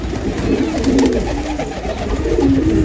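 Pigeons of a hard-to-keep breed coo close by in a steady, overlapping stream of low, throaty murmurs that continue through the whole stretch with no talking.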